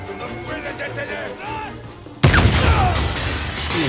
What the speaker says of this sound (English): warn me when you're gonna hit the explosion button